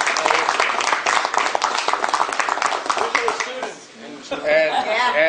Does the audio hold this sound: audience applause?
yes